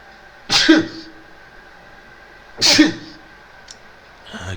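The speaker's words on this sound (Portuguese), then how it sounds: "Espirrar é uma delícia." A person sneezes twice, about two seconds apart, each a sharp loud burst close to the microphone over a quiet background hum.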